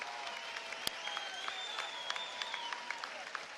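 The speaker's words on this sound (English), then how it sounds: "Ladies and gentlemen, a round of applause for 2 boxers who gave their all." Sustained applause from a boxing crowd for two boxers after an Irish welterweight bout fills the arena, with scattered claps and distant voices.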